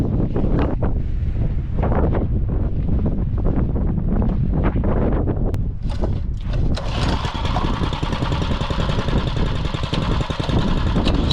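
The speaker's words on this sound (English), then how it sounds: "It's windy up here." Loud wind buffeting the microphone in rumbling gusts on a rocky hilltop, joined partway through by a close two-wheel-drive mini bike engine revving up.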